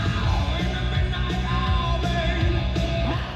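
Dense music with vocals plays steadily and loud from the six-speaker stereo of a 2023 Kia Forte GT.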